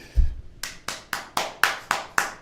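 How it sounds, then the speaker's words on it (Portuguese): Applause for a guest on a live podcast: a low thump, then about seven evenly spaced, crisp hand claps in a steady rhythm, close and clear, with no voices. "uma salva de palmas para Rei Physique"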